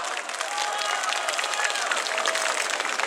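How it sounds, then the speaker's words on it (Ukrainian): A large crowd at an outdoor May Day rally on a square applauding steadily, dense clapping filling the whole stretch with no break. "Ці оплески вам!"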